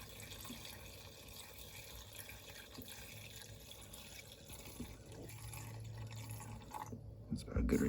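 Fresh fuel poured into the tank of a Toro push mower, a steady close liquid trickle and fill running throughout, growing slightly louder toward the end.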